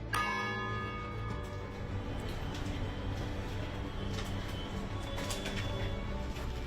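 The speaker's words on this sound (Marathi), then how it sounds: "दर 15 मिनिटांनी या घड्याळातून घंटानाद होतो" Clock bells of Mumbai's Rajabai Tower ringing, a bright strike at the start followed by ringing, decaying tones, with faint pigeon and ambient sounds around the tower.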